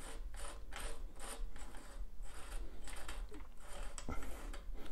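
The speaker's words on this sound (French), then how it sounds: "je vais utiliser une clé à molette. Bon, ça a l'air de se dévisser facilement." Adjustable wrench working a nut loose on a vintage bicycle during disassembly, giving steady close mechanical ratcheting and clicking throughout with a low hum beneath.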